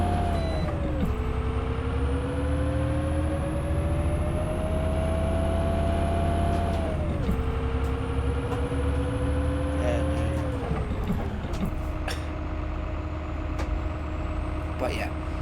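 A simulated Karosa C954 bus in OMSI 2 speeds up to 50, its engine note climbing steadily, then dropping and climbing again through gear changes in a 6-speed manual, with a constant loud drone throughout.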